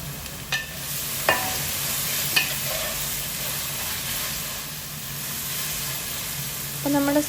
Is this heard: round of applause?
no